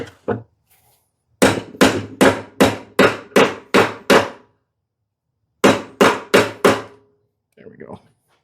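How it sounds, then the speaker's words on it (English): A busted zero turn mower deck part is hammered in two close, loud runs of sharp, ringing blows, about seven evenly spaced strikes, then four more after a pause, with a few lighter taps at the start and end. "Actually, I might just hammer that in"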